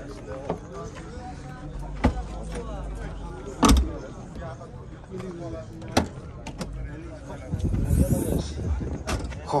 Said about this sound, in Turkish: Bagajda ochsa bo'ladimi?